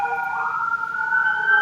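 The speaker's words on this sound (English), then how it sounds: "There's just an ambulance driving by." An ambulance siren wails steadily as it drives past outside, a sustained, fairly loud tone with no voices over it.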